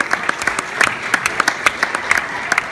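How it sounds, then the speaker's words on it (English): At a seventh-grade volleyball ceremony, a modest crowd claps for parents with loose, uneven handclaps. Individual claps stand out close by over a softer spread of clapping. "so my round of applause to you guys"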